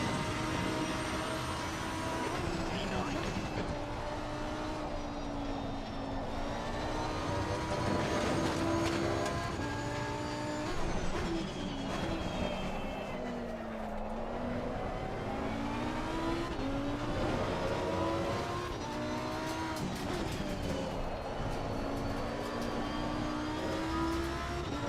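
A race car on a hot lap at Brands Hatch, its engine screaming loud and close from inside the cockpit, rising and falling through gear changes and corners without a break, no talking.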